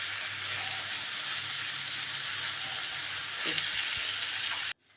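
Minced meat for a Libyan-style dish frying in a pan as a spoon breaks it up and turns it over; a dense, even sizzle hisses close and loud, then cuts off abruptly near the end.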